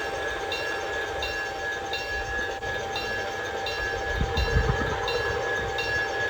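A garden railroad model train runs steadily along outdoor track, with a constant mechanical drone, faint rhythmic clicks from the rail joints and a few low rumbles near the end, and no voices.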